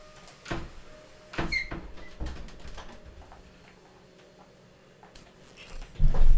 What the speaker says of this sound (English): Let me shut this door real quick.